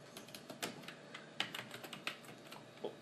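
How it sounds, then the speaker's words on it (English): Keys clacking on a computer keyboard as a sudo mount command is entered, scattered keystrokes spaced irregularly, close and fairly quiet, with no voices. "So type in mount I guess sudo first."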